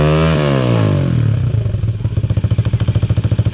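A motorcycle engine cranks and catches, then settles into a loud, close, pulsing idle with a steady, lumpy beat and some mechanical clatter.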